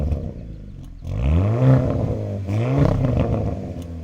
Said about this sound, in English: Here's how the MBRP exhaust sounds.